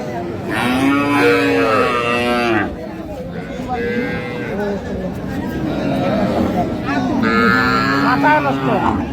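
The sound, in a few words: cow mooing at market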